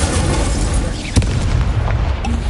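The Incendio fire spell cast in the video game Hogwarts Legacy, a loud rumbling fiery burst with a sharp crack near the middle, heard alone without talk.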